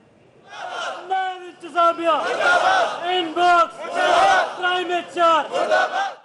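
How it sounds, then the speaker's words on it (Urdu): A crowd of protesters chants anti-government slogans in unison, rhythmic call-and-response shouts rising and falling, loud and close. "حکومت کے خلاف نعرے بازی بھی کی گئی"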